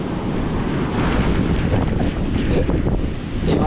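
Ocean surf washing in at a river mouth along an eroded shoreline, a steady loud broadband roar of breaking waves mixed with heavy wind buffeting the microphone, continuous throughout with no speech.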